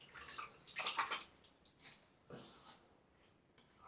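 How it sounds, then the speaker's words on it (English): Water splashes as a face is moistened before a safety razor shave, soft irregular sloshing and trickling at the sink in a few short bursts, close and quiet, with no talk. "I just moisten my face again."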